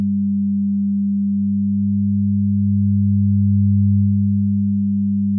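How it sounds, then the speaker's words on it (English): A steady 200 Hz sine tone with an added subharmonic one octave below from the Waves Submarine bass enhancement plugin, a pure, even, continuous hum that swells slightly in loudness midway and holds alone without any voices. "Got a 200 Hz sine wave here. Let's just set sub 1 on."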